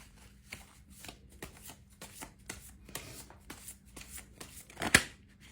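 Tarot cards being shuffled by hand, a series of soft riffling flicks and slaps at an uneven rhythm, close and fairly quiet, ending in one sharper snap near the end.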